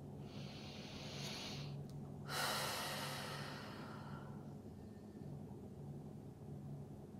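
Slow, deep breaths during a myofascial release exercise for the diaphragm and back, close and fairly quiet. One long broadband exhale swells in the middle over a soft steady hum, and no one speaks.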